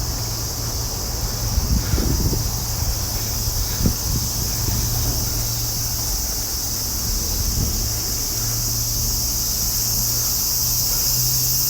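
A dense, steady drone of cicadas in Japan fills the whole stretch, loud and unbroken, with a few faint rustles underneath.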